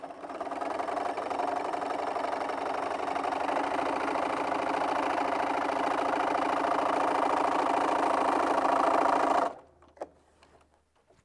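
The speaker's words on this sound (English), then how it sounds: "I'm just going to sew down this line here that I've marked with my hero marker" Sewing machine fitted with a walking foot stitching a straight marked line across an insulated placemat, a steady loud whirring run for about nine seconds that stops abruptly, followed by a couple of faint clicks.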